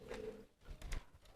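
Pigeons scuffle during a mate-pairing session, giving a faint low coo followed by soft flapping and rustling bursts, quiet and close with no talk.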